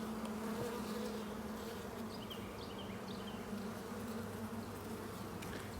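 Honeybees buzz densely around an opened backyard hive during an inspection, a close, continuous hum with steady drone tones, the irritated colony filling the sound evenly from start to finish.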